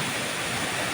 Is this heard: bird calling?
no